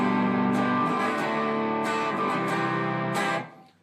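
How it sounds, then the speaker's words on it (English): An electric guitar played through a MegaTone Rangemax performance booster into a two-channel amp, with the distortion coming from the amp itself, rings out in sustained, overdriven chords with a few picked accents, loud and close, then cuts off near the end. "Sounds very natural, because actually the distortion is really coming from the amp."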